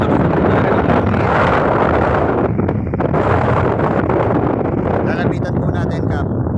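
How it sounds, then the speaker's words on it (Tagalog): Strong wind roars across open water beside a fishing boat, buffeting the microphone with a loud, steady rushing noise throughout, and a few gusts spike sharply near the end. "Sobrang lakas na po talaga ng hangin."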